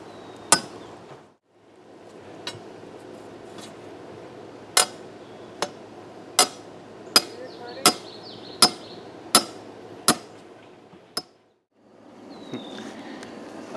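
Pieces of rebar are hammered into a small frame in a backyard, a series of about a dozen sharp metallic strikes spaced roughly a second apart, ringing clearly against a steady outdoor hum.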